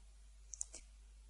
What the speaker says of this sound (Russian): Одним щелчком левой кнопки мышки можно снять выделение с этого текста.